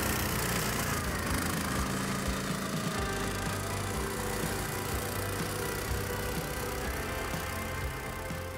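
A mini tracked ATV motorsled engine labours up a steep snowy hill with a loud, continuous buzzing drone that holds steady and close throughout.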